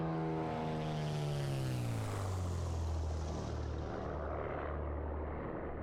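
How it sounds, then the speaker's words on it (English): Lycoming engine of a Commander 114 in MSFS 2024, a loud propeller drone sweeping downward in pitch as the aircraft flies past close by, with steady engine roar continuing after the pass. "I've never heard this particular Lycoming from this angle flying past me"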